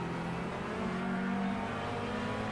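A GT3 race car engine at Bathurst in the iRacing sim holds a steady, loud drone with a slight rise in pitch midway, continuous through the whole stretch and with no talk over it.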